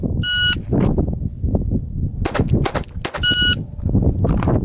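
Three sharp gunshots ring out at a shooting range, close and loud, with beeping tones before and after the shots and general range noise throughout.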